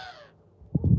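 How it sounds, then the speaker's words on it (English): A loud crow caws several times in quick succession close by outdoors, following a stretch of near silence. "Why that bird is loud?"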